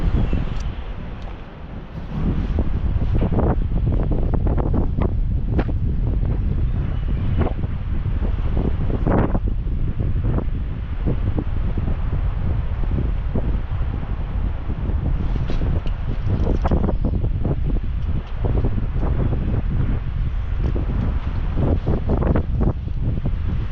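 Strong wind buffets the microphone beside the Niagara River in early November, a steady broadband roar with gusty swells that runs throughout and stays loud and close, with no voices.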